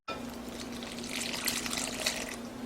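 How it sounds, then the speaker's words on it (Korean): Water poured steadily into kimchi pancake batter made with corn starch, chopped green onion, garlic, egg and onion extract, a close continuous trickle and splash lasting a few seconds with no talking. "물은 부어가면서 해주세요"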